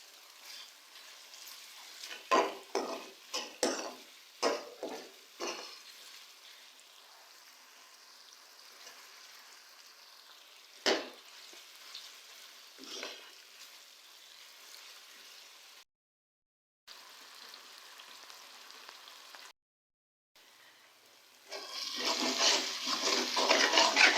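Tomatoes and masala for aloo gobi salan fry in a pan, with clattering scrapes of stirring early on, a quiet simmer in the middle and a rising hiss of sizzling at the end.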